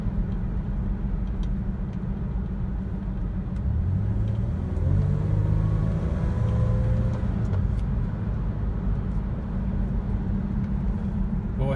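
Toyota 4Runner engine droning steadily while driving on a road under load, a loud continuous low rumble with tire and road noise and a slight rise in revs midway, no talking.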